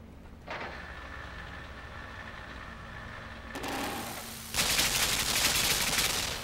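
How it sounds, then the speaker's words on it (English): Machine-gun fire in the video game Limbo: rapid, dense mechanical rattling that starts low, shifts midway, then bursts into louder, harsher continuous fire near the end. "I don't think so, machine gunner."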